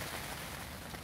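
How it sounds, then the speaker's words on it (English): Heavy rain drums on a fishing bivvy shelter, a dense, steady, close hiss of drops on fabric without a break or any voices. "the rain's absolutely pounding down on my bivvy"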